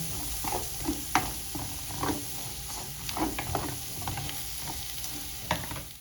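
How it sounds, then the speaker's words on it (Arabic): Onion and minced garlic frying in a pan, with a soft continuous sizzle broken by repeated scraping stirs of a utensil close by, no talking. "وهجيب كمان كده فصين ثوم مفرومين معاهم لغايه بس ما البصله بتاعتي تبدا تدبل"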